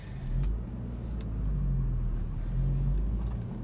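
Inside a 2017 Honda Civic Hatchback Sport with a 6-speed manual while driving, a steady low engine and road drone fills the cabin, swelling gently a few times, close and continuous with no talking.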